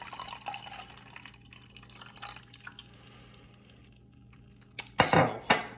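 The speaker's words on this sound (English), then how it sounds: "I'm going to go ahead and pour water in here" Water is poured into a homemade water clock, giving faint trickling and dripping at first, then a louder burst of splashing pour near the end.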